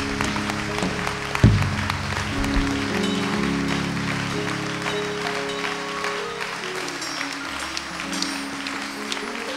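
A church congregation applauds and cheers for Jesus Christ during a sermon, sustained clapping and voices filling the room, with a sharp thump near the start, under a drone of music or keyboard.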